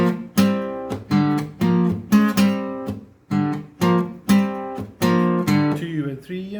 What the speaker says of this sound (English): This time on acoustic guitar, exactly the same.